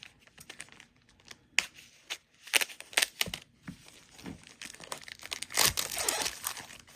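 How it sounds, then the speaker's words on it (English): Close crinkling, snipping and tearing as scissors cut into a cardboard and plastic packaged craft kit box, in irregular bursts, with rustling throughout. "let me get my scissors so I can cut into it"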